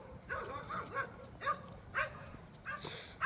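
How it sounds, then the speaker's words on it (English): A dog barks and yips repeatedly at some distance on a windy day outdoors, the short barks arriving in an irregular rhythm over low background noise. "with dogs in the background"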